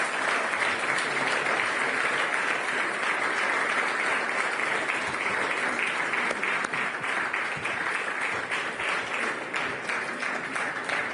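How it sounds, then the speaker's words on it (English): A large audience at the ECB Forum applauds contest finalists as they are called on stage, with dense, steady clapping that stays loud and continuous throughout, with no talking over it. "I would like to ask you, yet again, to applause, because the finalists are going to join me on stage"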